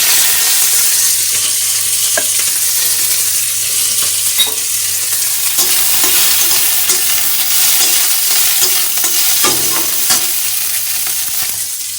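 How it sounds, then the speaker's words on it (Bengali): Chopped capsicum fries in a little oil in a wok, a loud continuous sizzle with repeated stirring scrapes and clatters throughout. "প্রথমে আমি না ক্যাপসিকামটা ভেজে নেব।"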